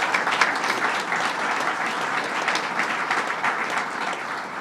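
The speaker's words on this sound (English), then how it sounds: "Mayor Ben Walsh, let's give him a big round of applause." Crowd at an announcement for the modernized Syracuse Hancock International Airport applauds Mayor Ben Walsh, sustained dense clapping at an even level throughout, moderately close.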